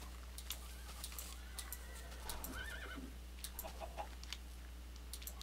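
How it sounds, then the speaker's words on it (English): Faint horse neighs and whinnies from a large group of horses in the video game Minecraft, with soft clip-clop hooves and chicken clucks over a low steady hum. "Big pile of horses spawned."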